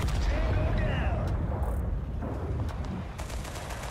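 Gunfire rattles in the war video game Total Conflict Resistance, with rapid shots and blasts layered over a busy battle din while a player talks over it.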